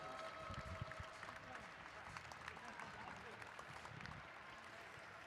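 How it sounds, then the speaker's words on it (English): Crowd applauding new state champions at a Saturday night rumble event, steady clapping from a distant audience throughout, with voices mixed in underneath. "Round of applause for new state champions"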